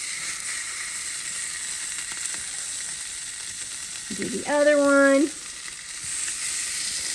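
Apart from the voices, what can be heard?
fatty meat sizzling on hot BBQ surface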